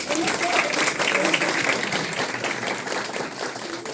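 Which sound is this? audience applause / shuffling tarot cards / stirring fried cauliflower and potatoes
audience applause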